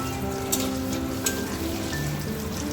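Egg cheese twist kebabs fry in hot oil in a wok, giving a continuous crackling sizzle with scattered pops, close and steady, over a faint tonal background.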